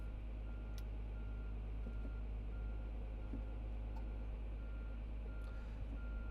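A Komatsu dump truck backing up at a loading site, its reversing alarm beeping faintly and steadily over a constant low engine rumble, heard from some distance.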